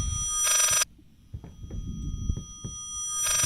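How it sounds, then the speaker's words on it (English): A distorted telephone rings in the horror video game Layers of Fear, sounding in harsh buzzing bursts separated by a low throbbing hum with faint knocks in between. "It's like a messed up phone ringing."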